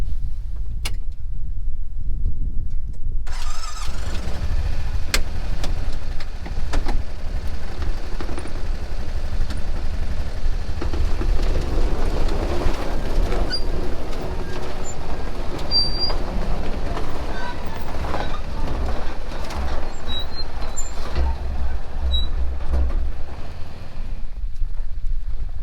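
A Kubota tractor engine runs steadily during unloading, a low constant rumble with wind buffeting the microphone, loud and unbroken from start to finish.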